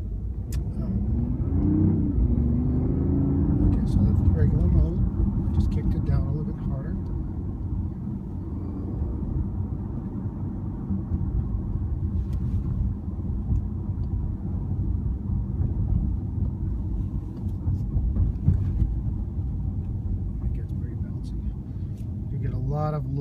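A BMW i8 plug-in hybrid sports car on a test drive, heard from inside as a steady, fairly loud low road and engine rumble with a brief swell of acceleration early on.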